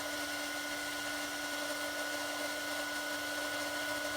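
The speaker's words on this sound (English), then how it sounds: "I love it when the heat gun suddenly warms up" A heat gun blows on embossing powder to melt it, giving a steady whirring hum with a faint tonal whine that runs unchanged throughout, with no talking.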